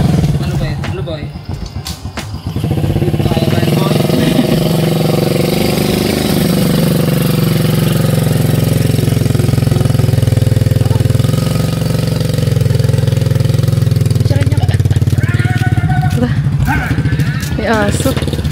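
Motorcycle engine running close by, a loud steady rumble that settles into an even drone after a brief uneven start, with people talking over it.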